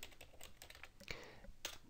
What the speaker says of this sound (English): So press the enter key once I finish typing